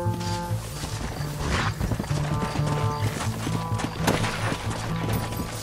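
Horse hooves in Red Dead Redemption clop in a steady, rapid gallop that stays close and fairly loud. A low tonal score and scattered crashes and gunfire sit around the hoofbeats.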